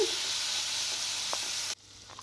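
Veg hakka noodles stir-frying in a hot pan give a steady, loud sizzle that cuts off abruptly near the end, leaving a quiet pause with a faint clink.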